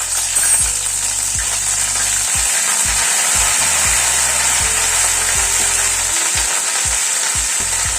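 Ginger paste spits and sizzles in hot oil over cracked whole spices for a Bengali vegetarian dish, a steady bright frying hiss with scattered crackles and a few low thumps, close up with no talk.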